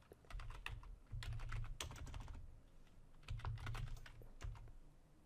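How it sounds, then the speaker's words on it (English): Rapid typing on a computer keyboard in a quiet room, with bursts of close key clicks separated by brief pauses and no voices. "I'm just going to go to Run and type GP Update."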